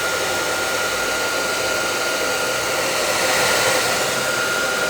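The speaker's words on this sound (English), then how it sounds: "I'm going to just hit the bottom mountain layer here with a hairdryer super quick." A hair dryer blows steadily at close range while drying a painting, a constant loud whooshing hum with no pauses.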